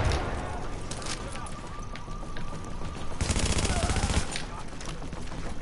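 Enemy gunfire in The Division crackles in scattered bursts over a dense, noisy background of other game sound. A heavier, sustained volley comes near the middle.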